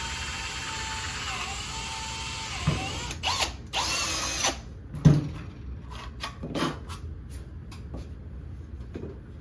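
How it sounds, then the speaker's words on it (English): A power drill whines close by while drilling holes in Kydex, then sounds in short bursts with clicks and handling noise between them, ending in a few brief spurts. "Alright, so got our 2 holes drilled."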